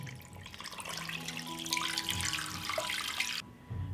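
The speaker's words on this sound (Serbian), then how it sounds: "Sipat ću vodu da prekrije meso." Water pouring from a tap into a pot holding two chicken fillets with onion, bay leaves and peppercorns, a continuous close splashing gush that cuts off near the end.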